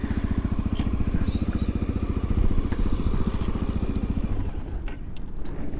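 A Honda XR650L motorcycle engine chugs close by as the rider pulls over, with a rapid, steady thumping and a slight dip in loudness toward the end.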